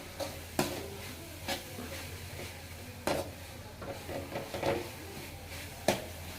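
Chicken gravy masala with coriander powder sautés in oil, with a soft sizzle under several clear, spaced knocks and scrapes of a spoon against the pan, close by and with no talking.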